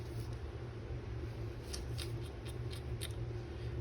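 Scissors snip through paper junk mail in several quick close cuts over a steady low background hum, with no talking.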